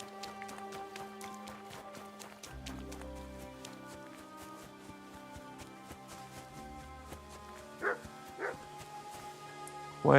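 A dog barking and yipping in a stealth video game, short scattered barks over a steady low game soundtrack, fairly faint with a couple of louder yelps near the end.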